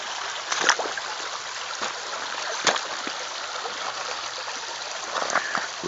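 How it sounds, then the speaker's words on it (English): Water flowing steadily through a natural gold sluice outdoors, a constant close rushing trickle with occasional splashy bursts. "We got a little sluice going here."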